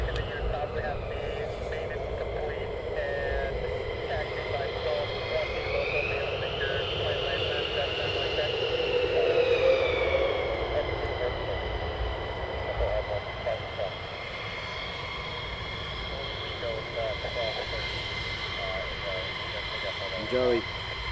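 F-22 jet aircraft at RAF Lakenheath preparing for departure, a steady broad engine roar with a whining tone that swells slightly midway, while people talk over it throughout.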